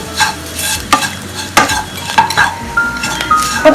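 Spices for egg theeyal fry in a pan as a spoon stirs and scrapes with steady metallic clinks over a constant close sizzle.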